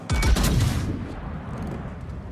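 Heavy main-battery guns of the battleship Adatara fire in a naval game, a sharp loud salvo boom that rolls off into a long fading rumble.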